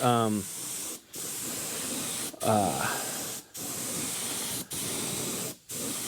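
Bursts of spray paint hiss steadily onto the bottom of a vehicle's windshield frame during repair, several long passes broken by brief pauses, with someone talking over the first bursts.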